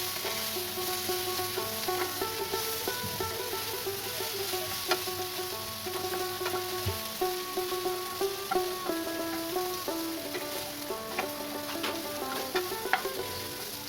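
Vegetables and drumstick stalks sizzle steadily in a pan for sukto, with a continuous close frying hiss and the repeated scrape and clink of stirring. No one speaks.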